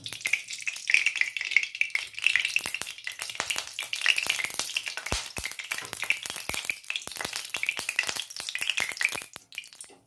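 Fish-frying oil heats in a kadai (wok) for a bottle-gourd fish curry. A steady, close crackle and sizzle runs throughout with dense spitting pops, and no one speaks.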